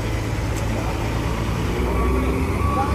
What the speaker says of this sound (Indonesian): Ini ada truk angkutan ternak juga, teman-teman. Bawa kerbau.